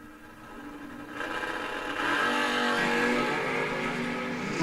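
Drag race cars, one a 2002 Chevy Blazer, launch at a bracket race, engines rising from a low idle into a loud, sustained revving roar that builds and holds.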